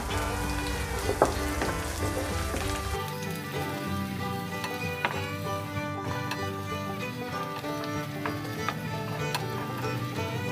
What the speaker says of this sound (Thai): เจียวกระเทียมให้เหลืองเลยค่ะ ใช้ไฟกลางนะคะ